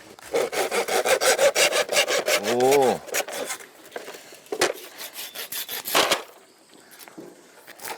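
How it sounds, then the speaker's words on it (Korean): Steady back-and-forth strokes of a hand saw cutting wood, rhythmic and close, with a brief exclamation and then rasping strokes tapering off near the end. "산에 사시면서 톱질을 많이 해보셨나 봐."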